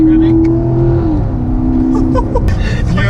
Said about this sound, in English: if you get your foot down, go on, go, keep revving